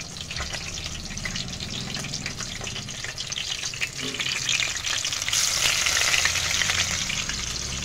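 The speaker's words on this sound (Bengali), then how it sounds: "এইভাবে আমি সবকটা ভেজে নেব।" Potato-spinach fritters on sticks fry in hot refined oil, with a dense, continuous close-up sizzle and bubbling that swells louder in the second half, occasional stirring sounds, no voices.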